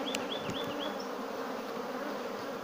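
Honeybees at a newly divided hive, a dense steady buzzing swarm close by with a few individual bees whining past near the start, no talking.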